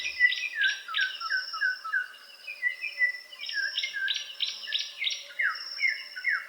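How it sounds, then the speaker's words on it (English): Several forest birds call and chirp in overlapping phrases by the River Nile, steady and fairly close, with a faint insect hum behind them. "Birds call from unseen perches."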